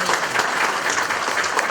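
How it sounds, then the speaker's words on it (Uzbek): Audience applause at an Uzbek theatre gathering, a dense, steady wash of many hands clapping at even loudness for a short moment with no voices over it. "O'zingizga o'zinglar bir qarsak qiling."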